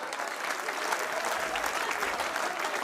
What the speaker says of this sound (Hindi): एक बार जोरदार ताली बजा, जोरदार